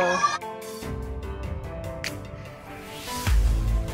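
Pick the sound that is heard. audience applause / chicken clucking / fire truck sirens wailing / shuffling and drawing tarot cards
chicken clucking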